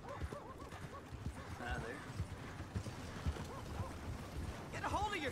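Horses in the Red Dead Redemption 2 video game clip-clop steadily at a walk in a frontier town, the hoofbeats close and continuous, with an occasional whinny and talk alongside.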